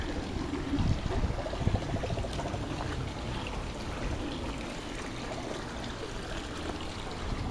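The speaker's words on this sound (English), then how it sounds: "Pour some of it here." Polyquat pool chemical poured into a backyard swimming pool, a steady close trickle and splash of liquid hitting water that runs for several seconds, with no talk over it.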